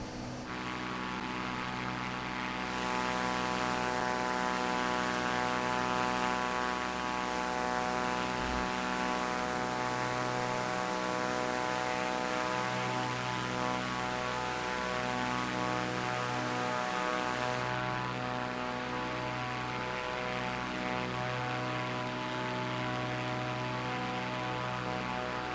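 A Cessna 400TT propeller plane drones in Microsoft Flight Simulator 2, a steady engine and prop hum with low harmonic tones and airflow hiss, heard from outside the aircraft, continuous and moderately loud with no talk.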